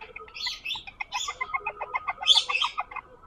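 A pet lory parrot chirps and tweets in quick, bright bursts, the calls coming close and fairly loud in an irregular chattering run with no talk over them.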